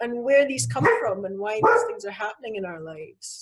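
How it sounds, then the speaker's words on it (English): A pet dog gives a few short barks, partly masked by continuous close-up speech from a person talking over it. "that's my dog having a little bit of a bark there"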